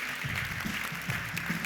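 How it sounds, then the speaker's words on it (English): Audience applause at a European policy cooperation anniversary celebration: a steady, fairly faint wash of clapping with a low murmur underneath, lasting just under two seconds. "Once again, an applause for our 6 colleagues."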